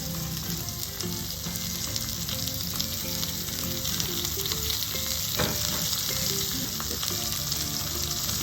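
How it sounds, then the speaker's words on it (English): Sliced onions sauté in a pan still holding steak drippings, giving a steady, close, dense sizzle with occasional stirring scrapes throughout and no talking. "I'm gonna saute my onions."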